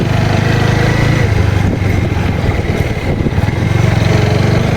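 A motorcycle engine revs hard in second gear, a loud continuous buzzing drone that dips briefly midway and then climbs again.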